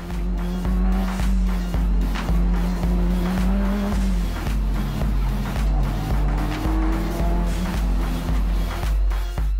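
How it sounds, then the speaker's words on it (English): A race car circulates a track lap after lap, its engine roaring loud and steady with rhythmic pulses as it powers through the corners, with no voices over it. "With all the right support gear, the car pumps out lap after blistering lap."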